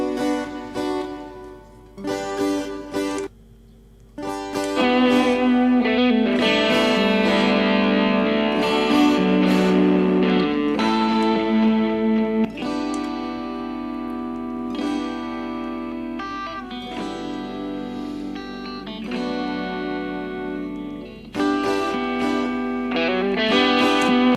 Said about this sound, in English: So now let's add the Hall reverb.